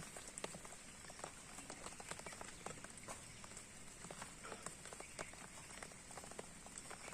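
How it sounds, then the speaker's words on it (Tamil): Rain falls outdoors in a village where chicken gravy is being cooked, a faint, dense and steady patter of drops with no voices. "மழையும் பெய்யுது"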